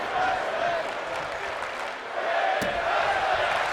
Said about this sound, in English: The crowd is hyped up.